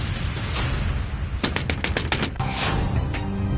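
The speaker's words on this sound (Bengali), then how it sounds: "উপরে বৌমনির ঘর থেকে দরজা ধাক্কানোর আওয়াজটা এলো না?" Someone pounds on an upstairs bedroom door in a house, a rapid burst of about eight loud knocks in the middle, set against a constant background rumble.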